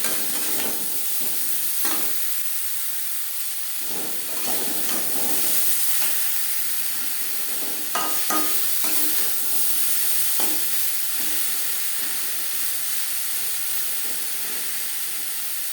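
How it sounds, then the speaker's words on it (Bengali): Pointed gourd (potol) is stirred into frying onions in a pan: a loud, steady sizzle punctuated by irregular scraping strokes of the spatula throughout. "পেঁয়াজের সাথে বেশ ভালো করে পটল মিক্স করে দেবো"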